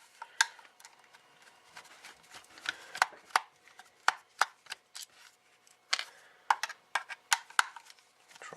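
Small screwdriver backing six screws out of the housing of a Uniden Bearcat BC-75XLT handheld scanner, heard as close, irregular clicks and scrapes in quick bursts, with small parts rattling, at a quiet level with no talking.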